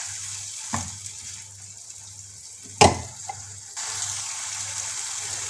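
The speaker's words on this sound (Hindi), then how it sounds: "मिला के मसालों को अच्छे से भुनने देंगे।" Spices fry in oil in a pan for an aloe vera sabzi, a faint low sizzle broken by a couple of sharp scraping clanks, with the hiss rising louder toward the end.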